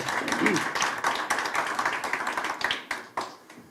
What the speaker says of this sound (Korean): 먼저 큰 박수로 환영해 주시기 바랍니다